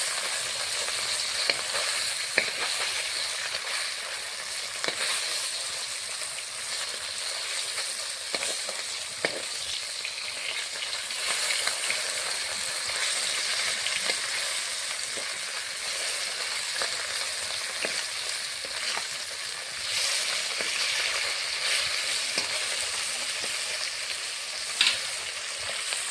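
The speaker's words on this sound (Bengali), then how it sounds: "মাছগুলো ভেজে নেব ভালো করে।" Turmeric-and-salt rubbed bata fish frying in hot oil in a kadai, a continuous crackling sizzle up close, punctuated by occasional spatula taps and scrapes as the pieces are turned.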